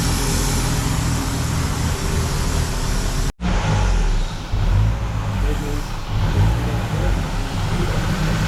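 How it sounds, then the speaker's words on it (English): A 2000 Ford Contour 2.0 engine running with an intake vacuum leak from a cracked PCV hose, a loud close steady engine drone with hissing air, briefly cut off once before resuming, with voices over it. "I think the sucking sound's coming from like farther down the intake."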